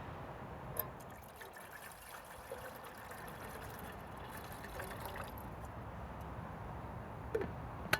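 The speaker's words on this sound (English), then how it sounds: "We'll pour that in and get it boiling." Half a litre of water pours steadily into a pot on a Firemaple Polaris gas stove, a continuous soft trickling wash that runs for several seconds at close range, with a couple of light clicks near the end.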